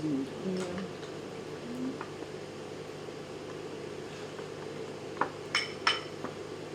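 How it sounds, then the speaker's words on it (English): A spoon stirs sugar into milk in a glass, with a few light, quick clinks near the end over a steady low hum and faint background voices. "So you just stir the milk till the sugar is well"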